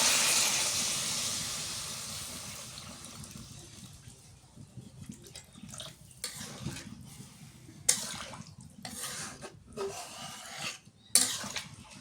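Water poured into a pan of cooking papaya curry raises a loud steamy hiss that slowly fades over several seconds, followed by scattered clinks and knocks of a spoon against the pot.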